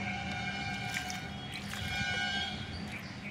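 Water trickles and drips by hand onto the base of freshly planted seedlings in a rooftop garden, a soft, steady wet patter close by with no talking.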